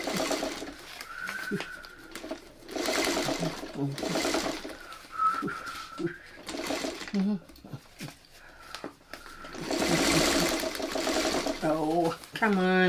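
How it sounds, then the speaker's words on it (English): A sewing machine stitches a quilt block in several whirring runs with brief stops between them, close by, while someone talks over it and birds coo faintly in the background. "So let's just get this under the machine and sew it."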